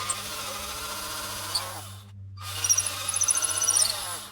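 A power drill bores a hole, its motor whining steadily with a humming undertone, cutting off briefly, then spinning up again with rhythmic squealing bursts as the bit bites.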